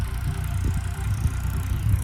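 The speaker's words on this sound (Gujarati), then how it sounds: "જો આપણે બકુલભાઈ ટ્રેક્ટર હાકે છે" Tractor engine running steadily as it is driven across a nursery farm field, a close, continuous low rumble with a slight pulsing throb and no speech.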